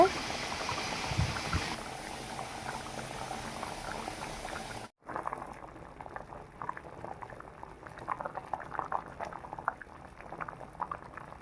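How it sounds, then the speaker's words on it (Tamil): A pot of sambar made with cabbage bubbles and simmers with a continuous soft crackling boil, with a brief break before the fizzing resumes at a steady, moderate level. "கொதிக்குது சாம்பார்"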